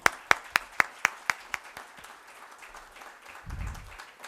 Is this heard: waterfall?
no